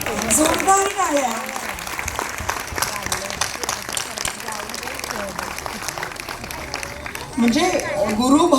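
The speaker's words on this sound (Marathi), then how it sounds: "जोरदार टाळ्या." Loud applause and clapping from an audience at a guru-thanksgiving gathering with students, sustained throughout and swelling again near the end, with voices and chatter mixed in.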